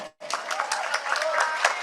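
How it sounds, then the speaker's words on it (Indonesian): An audience at a gathering of village heads with the agriculture minister applauds, giving a short, dense burst of many hands clapping close by after a brief pause. "Tepuk tangan untuk Pak Menko."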